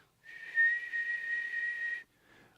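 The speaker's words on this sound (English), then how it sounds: "I'm just gonna whistle for a second." A single person whistles a steady, sustained high tone for about two seconds with slight pitch wavering, loud and close, used to point out a ringing resonance in a song mix, with no other sound around it.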